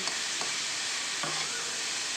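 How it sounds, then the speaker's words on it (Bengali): Radish greens fry in a pan with garlic and nigella seeds, making a soft, even sizzle with a few faint stirring scrapes. "চলো এবার শাকটা ভালো করে ভাজা ভাজা করে নিয়ে তোমাদেরকে দেখাবো"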